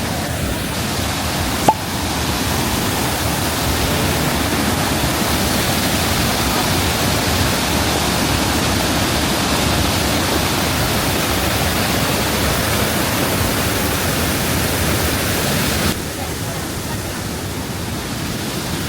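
Steady, dense roar of a waterfall in rainy weather in Taiwan, loud and continuous with no break, dropping slightly in level near the end.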